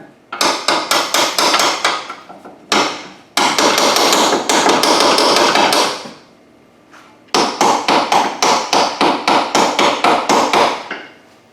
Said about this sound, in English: So all I'm going to do is take a little chisel and spread this open just a little bit.